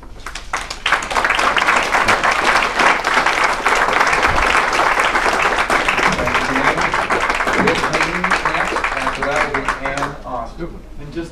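An audience at a county steep slope hearing claps in a sustained, dense burst for about ten seconds, then the applause cuts off and a voice begins speaking.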